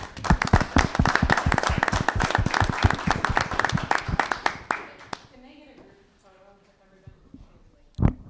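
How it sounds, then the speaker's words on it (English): A small audience at a Crosby Township trustees meeting claps briefly, a sparse patter of individual hands for about five seconds, then fades into quiet room sound with a voice speaking and a single knock near the end. "Give everybody a round of applause"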